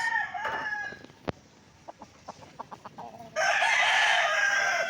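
An Asil rooster crows loudly and near at the start, gives a run of short clucks, then crows again in a long, bright call at the end.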